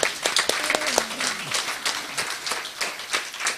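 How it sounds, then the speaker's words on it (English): An audience in a hall applauds a family member's achievements, a dense burst of many hands clapping that starts strong and gradually thins, with a brief voice or tone faintly audible near the start. "let's give an applause for his achievements"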